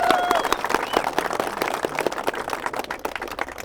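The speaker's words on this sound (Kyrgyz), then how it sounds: "Эрлан инибизге бир кол чаап койгула." Audience applause for a young man named Erlan, honored after winning at a horse stable event, a steady patter of scattered claps with some crowd noise lasting throughout, moderately loud and fairly close.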